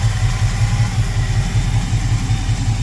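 A Carter P4594 electric fuel pump on a 1966 Plymouth runs steadily with a low, even drone and a faint pulsing hum, close and continuous throughout with no talking.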